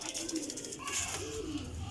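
Champion pigeons cooing in low, rolling bursts close by, with a voice talking over them and a steady background hiss.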